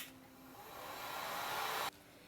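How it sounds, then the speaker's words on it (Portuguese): A heat gun blower aimed at wet paint on an MDF Christmas ornament, giving a steady close whooshing hiss that swells slightly over two seconds and then cuts off abruptly. "eu vou precisar usar o soprador agora para poder aplicar a segunda demão com a cor cerâmica na parte inferior do vestidinho"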